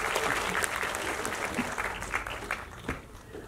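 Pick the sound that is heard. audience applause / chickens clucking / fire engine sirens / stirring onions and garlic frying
audience applause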